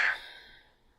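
A slow, deep exhale during a calm guided meditation, loudest at the start and tapering into quiet breathiness over about a second, alone with no talking.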